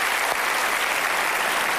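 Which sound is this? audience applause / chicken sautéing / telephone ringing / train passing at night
audience applause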